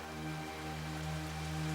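Heavy rain falling outdoors, a dense, even hiss that stays steady and moderately loud throughout with no voices.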